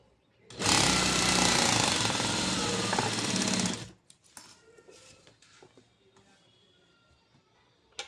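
Up close, a sewing machine attaching a garment sleeve runs in one loud, continuous rattling burst of about three seconds, then stops, leaving only faint fabric handling and small clicks.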